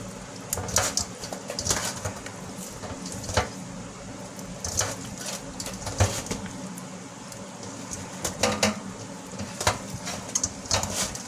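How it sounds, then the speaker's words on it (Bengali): Fish pieces are scrubbed and rinsed with turmeric in a kitchen sink, giving intermittent wet squelching and splashing bursts at close range over a quiet background. "আমি বেসিনে ধুচ্ছি, আর একটু হলুদ দিয়ে সুন্দর করে কুচলে মাছটাকে ধোবো"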